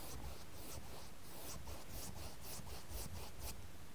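Soft, repeated paintbrush strokes sweep across canvas in a steady back-and-forth rhythm, close up with no voices.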